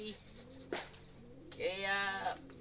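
Racing pigeons coo at a loft, soft throaty calls rising and falling close by, mixed with people chatting nearby.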